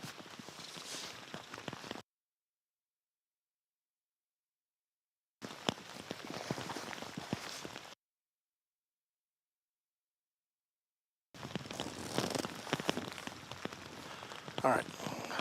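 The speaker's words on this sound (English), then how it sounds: "As that rain starts to come in even more." Rain comes down during a bass fishing tournament on Weiss Lake, a steady patter of drops on a surface, heard in three bursts separated by dead silence.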